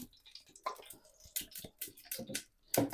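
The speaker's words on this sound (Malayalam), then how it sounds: "ഇതിലേക്ക് കുറച്ച് വെളിച്ചെണ്ണ ഒഴിച്ച് കൊടുക്കുക." Coconut oil is poured into a hot cooking pot for biryani, giving irregular close drips, ticks and soft sizzling splatters with quiet gaps between them.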